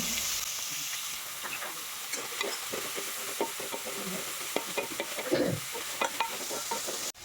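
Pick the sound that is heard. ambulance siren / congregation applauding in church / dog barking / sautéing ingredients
sautéing ingredients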